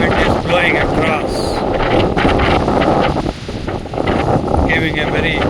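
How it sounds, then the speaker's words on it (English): Strong wind blowing across a bay on Maui's coast, roaring steadily with heavy buffeting against the microphone, while a voice speaks over the gusts. "Strong wind is blowing across,"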